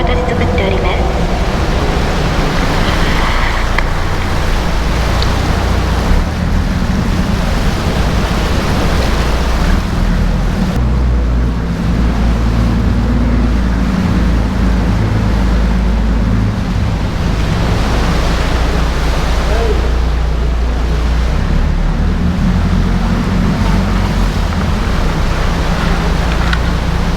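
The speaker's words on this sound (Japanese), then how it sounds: "洞窟の中を通って波が打ち寄せ、" Waves surge through a sea cave at Dogashima on the Izu coast, a continuous loud roar and wash of water, close, with wind buffeting and a voice talking throughout.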